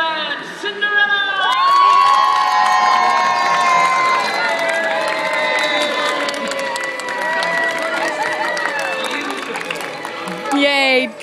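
A crowd of children at Disneyland cheers for Cinderella, with loud sustained high-pitched shouting and whooping from many voices close by that swells and fades, plus a little applause near the end.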